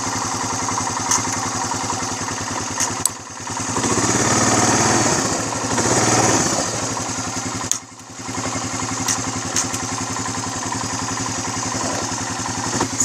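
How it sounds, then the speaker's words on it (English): Quad bike engine idling and running steadily outdoors in strong north-west wind, a continuous mid-pitched mechanical drone with a brief swell, close and fairly loud, with two short dips where it nearly cuts out. "You need 2 hands to go in reverse on a quad bike."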